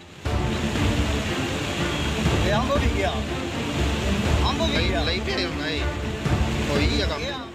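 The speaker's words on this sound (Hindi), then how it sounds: "पानी का शोर बता रहा है कि बहाव कितना भयानक है।" Loud, continuous rush of churning flood water in Dharamshala fills the scene, a heavy roaring flow with scattered splashes and faint voices mixed in.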